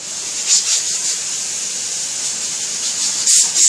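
A pressure cooker vents a steady, loud hiss of steam from its nozzle, swelling slightly in a few brief surges without pause.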